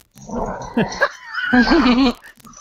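A dog barks and whines loudly nearby during a phone call, with a few sharp yaps followed by a longer howling whine, heard close over the line.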